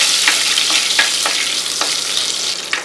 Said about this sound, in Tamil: வெந்தயமும் லைட்டாக சவுண்டு கேட்க ஆரம்பிச்சிச்சு.